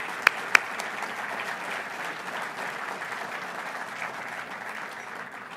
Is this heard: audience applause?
yes